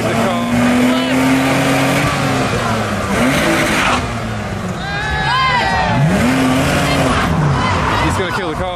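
Tuner car at a car meet, its engine revving hard in repeated rising and falling bursts, loud and close under a busy crowd, with people talking throughout.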